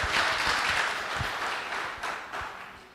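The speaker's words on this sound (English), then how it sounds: "Can we give them a round of applause?" Audience members at a parliamentary committee public hearing on small business give a sustained round of applause, dense and close at first, then thinning and fading toward the end.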